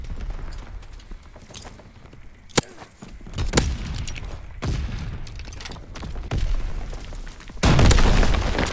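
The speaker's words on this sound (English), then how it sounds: "My man just ate that Panzer Shrek missile." A Panzerschreck missile explodes in a World War-style video game, with sharp bangs and scattered battle noise building to a loud, roaring blast at the end.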